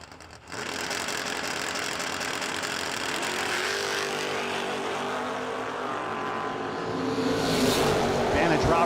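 Two drag racing cars, a Ford Maverick and a Ford Mustang, rumble and build engine noise at a no-delay drag strip, a sustained throaty drone swelling louder near the end, with a voice talking faintly underneath.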